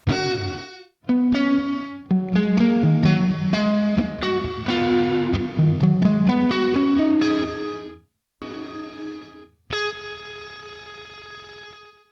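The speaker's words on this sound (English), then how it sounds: "That's like a gated reverb." Distorted electric guitar through a Fractal FM3's gated reverb plays chords and bends, the notes cutting off abruptly into silence between phrases.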